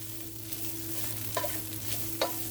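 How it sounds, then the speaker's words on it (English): Spiced hamburger meat frying in a pan for hamburger gravy, a steady low sizzle with two brief spatula scrapes of stirring, close by. "Put some of those spices in there. Give it a really good taste. Stir that up a little bit."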